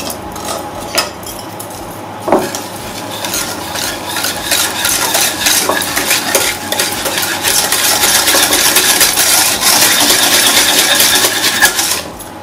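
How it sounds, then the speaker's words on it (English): Sugar and vanilla get whisked in a bowl with a fast, continuous metallic rattle of the whisk against the sides, close and loud and growing steadier toward the end. "we'll add our sugar, vanilla, and we'll whisk that together"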